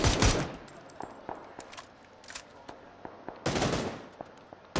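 Rapid bursts of video game gunfire crack out in several loud volleys, with scattered single shots between them, close and sharp with no talking.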